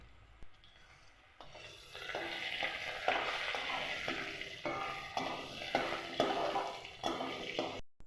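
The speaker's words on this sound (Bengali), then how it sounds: "তেলের মধ্যে আমের টুকরোগুলো দেওয়ার পরে সেগুলোকে ভালোভাবে নেড়েচেড়ে নেব।" Cubes of raw mango fry in hot oil, with a steady sizzle that starts softly and grows louder after a second or so, broken by repeated scraping stirs at a fairly even pace.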